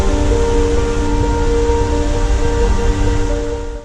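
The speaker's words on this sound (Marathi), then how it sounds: "पाण्याचा रौद्र आवाज." Fierce, steady roar of water rushing through a mountain valley on a Himalayan trek near Manali after a night of rain, a loud continuous broadband wash that holds throughout and eases slightly at the end.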